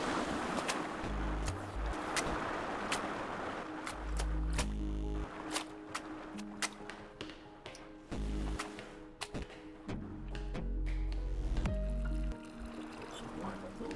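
Water being drawn upward in the video game Vessel, heard as repeated watery squishing and sloshing with low thumps and sharp clicks, continuing through the whole passage.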